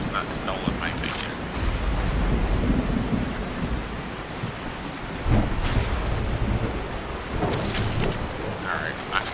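Thunderstorm in the video game The Last Caretaker: steady heavy rain with low, rolling thunder swells, loud and continuous throughout, with someone talking over it.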